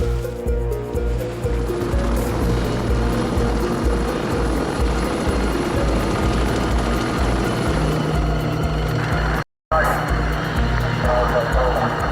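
Steady Coast Guard helicopter rotor drone throughout, loud and continuous, with a brief dropout near the end; faint speech may sit underneath.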